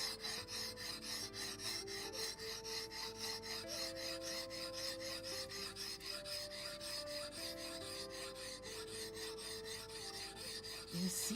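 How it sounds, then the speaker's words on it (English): A blade is worked on a whetstone along its upper edges with steady, rhythmic back-and-forth rasping strokes, close and continuous, and no talking over it. "I'll just continue sharpening it just a tiny bit more on the upper edges."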